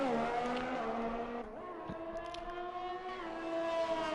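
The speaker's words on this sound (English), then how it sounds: "As a Ferrari is coming across the line" A Ferrari race car crosses the line in a racing video game at Abu Dhabi, a loud, high-pitched engine whine holding steady, then falling briefly and rising again, with no talk.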